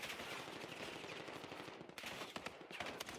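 Rapid rattling automatic gunfire from a Call of Duty esports match, OpTic Texas versus Toronto KOI, sustained dense bursts with sharp individual shots standing out toward the end.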